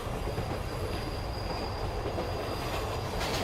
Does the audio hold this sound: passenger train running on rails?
yes